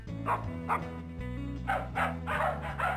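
A cartoon dog barks in the Putt-Putt Enters the Race video game, a series of short yips and bow-wows in quick bursts over a steady, bouncy game music loop.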